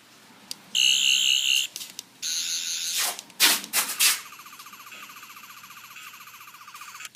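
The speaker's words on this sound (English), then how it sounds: "That's the Doctor Who Sonic screwdriver." An 11th Doctor sonic screwdriver toy from Doctor Who cycles through electronic effects: a warbling pulsed tone, a buzzy whine, a few sharp bursts, then a softer oscillating trill, all loud and close.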